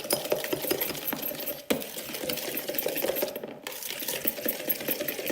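Melted butter and icing sugar being mixed by hand in a bowl: a steady, close scraping texture broken by frequent light clicks and taps against the bowl, with no talking.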